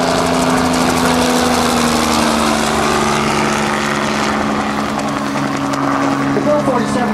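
A Bell 47 helicopter makes a flyby pass at a Rotorfest 2008 demonstration: a loud, nearby engine and rotor drone holds steady, its pitch easing slightly downward as it goes by.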